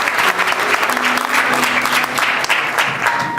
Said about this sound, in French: Pour l'applaudissement, très sincère.